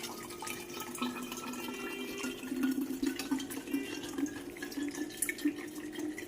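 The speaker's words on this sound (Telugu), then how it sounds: "సోడా తయారు చేసుకోవడానికి ఫస్ట్ మనం ఐస్ వాటర్ బాటిల్లో పోసుకోవాలి." Ice water poured into a soda machine bottle for homemade lemon soda, a steady close trickle and splash of running liquid lasting throughout, no voices.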